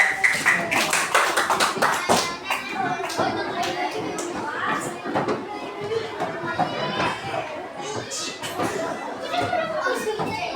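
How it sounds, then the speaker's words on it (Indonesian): Classroom applause for a student group, a dense burst of many hands clapping from children and a teacher, with chatter and voices mixed in the whole way through. "Tepuk tangan untuk kelompok 1 juga"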